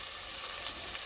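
Sliced onions frying in a pan for a beef dish, giving a steady, even sizzle with no distinct breaks, close and moderately loud throughout.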